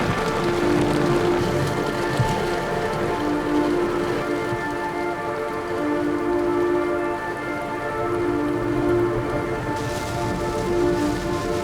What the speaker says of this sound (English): So the rain lightened up a little bit